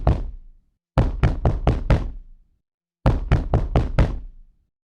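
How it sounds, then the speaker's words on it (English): Sharp knocks strike a door at midnight: one hard rap, then two bursts of about five quick knocks each, separated by silence. The knocks are close and loud with no voices. "Liam's door rattled with 3 sharp knocks."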